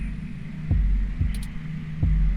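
In the video game 2064: Read Only Memories, a deep heartbeat throbs in slow double thumps, loud and close over a low background hum, with no speech.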